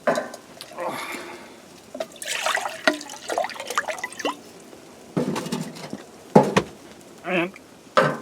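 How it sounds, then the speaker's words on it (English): Water poured into a container during outdoor cleanup beside a fire, heard as several splashy, trickling bursts between stretches of nearby talking. "So I'm going to put a bit of water in this."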